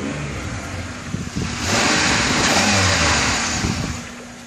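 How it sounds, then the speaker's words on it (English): A Pontiac Grand Prix (2004 or later) engine revs up, rising in pitch and loudness, holds a steady high roar for a couple of seconds, then eases back down. "give the car a rev, because obviously we're going to want to do an audio comparison as well"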